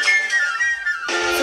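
Penny whistle played by a woodwind musician, a steady sustained high note that shifts to a brighter, breathier tone near the end, clear and close with no talk.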